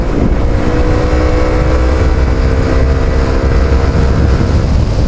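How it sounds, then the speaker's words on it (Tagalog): An FKM Slick 150 motorcycle engine drones loudly and steadily up close through its stock exhaust, a rough, continuous roar with no voices over it. "ang gusto ko sa stock na exhaust niya, na ma-maximize niya yung combination sa engine niya, which makes a screaming sound"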